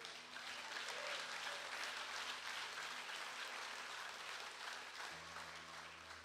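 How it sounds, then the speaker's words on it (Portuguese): Church congregation applauding, a steady wash of clapping throughout at a moderate distance, with a faint low hum underneath. "Pode aplaudir."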